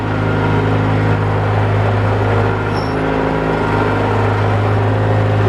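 A heavy Bobcat engine, fitted with forklift tines, revs loudly and steadily nearby, a thick continuous rumble with no breaks and no voices over it.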